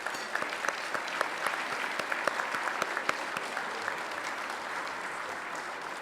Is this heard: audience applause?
yes